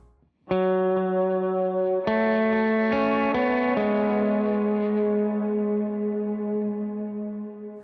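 Sustained electric guitar chords drenched in a warbling, metallic ring-modulated effect, loud and alone, with a few chord changes ringing out and slowly decaying.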